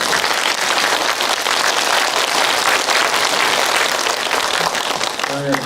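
An audience at a Buddhist dharma assembly applauds to welcome a monk, with loud, dense, continuous clapping filling the hall before it tapers at the end.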